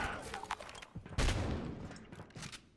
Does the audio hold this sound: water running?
no